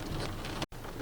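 Rain heard from inside a car makes a steady dense patter and hiss against the body, close and continuous with a brief cutout.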